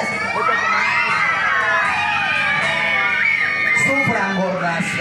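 An audience at a clown show shouting together in unison on a count of three, a loud, dense burst of many voices and cheers sustained throughout, close and overlapping.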